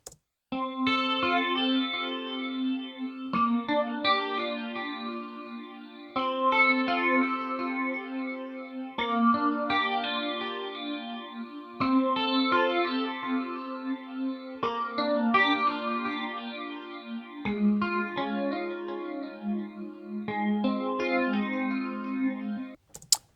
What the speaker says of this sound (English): you're going to begin to hear this kind of lovely, undulating kind of warmth, which is the kind of copy of the sound out of phase with the original being filtered